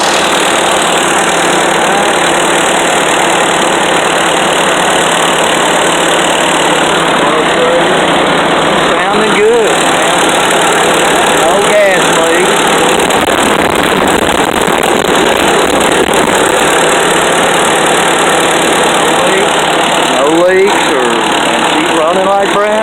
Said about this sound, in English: Let me start her up here and listen to her.